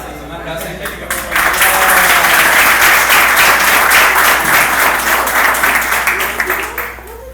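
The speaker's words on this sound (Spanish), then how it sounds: "Un aplauso, Angélica" Audience applause breaks out after a demonstration in a Spanish-language session, building quickly into steady, dense clapping that holds loud for several seconds before tapering slightly near the end.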